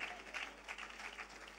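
Scattered applause rises from an audience after a doctor's health talk, a soft, uneven patter of hands clapping at a distance, faint and brief.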